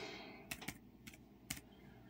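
Keys tapped on the full-size keyboard of an Asus EeeBook laptop, a handful of soft, separate clicks spaced irregularly over a low background hum, close and fairly quiet.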